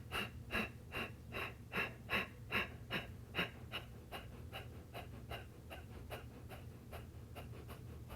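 Rapid, forceful pumping breaths of a yoga breathing exercise, sharp exhales repeating about twice per second, close and steady, strongest early then slightly softer, over a low constant hum with no talking.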